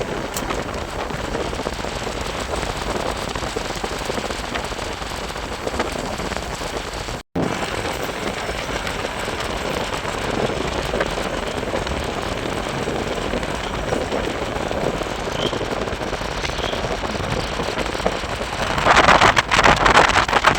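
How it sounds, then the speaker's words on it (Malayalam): Heavy rain pours during a night ride through forest on the Athirapalli to Valparai road, a loud, constant hiss blended with wind buffeting and vehicle rumble, swelling slightly toward the end, with no one speaking. "കുറച്ച് ദൂരം നല്ല മഴ ഉണ്ടായിരിക്കും"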